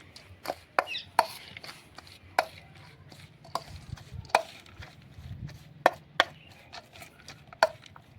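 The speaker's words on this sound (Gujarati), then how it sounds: "હવે આપણે ભેળને સરખી રીતે મિક્સ કરી દઈ।" Bhel puri ingredients with salt being mixed in a bowl, heard as sharp, irregular clinks and knocks of a utensil against the bowl, fairly quiet with soft rustling between strikes and no talking.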